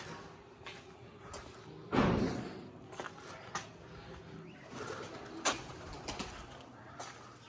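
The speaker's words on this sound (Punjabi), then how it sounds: "ਬਾਈ ਨੇ ਕਹਿੰਦੇ ਕਬੂਤਰੇ ਬੋਲਦੇ ਆ" Pigeons coo faintly at an old house, with a soft rumbling coo rising above quiet background noise and a few scattered thumps and clicks.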